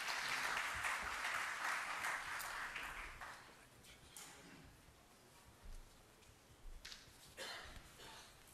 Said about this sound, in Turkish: Alkışlarınız efendim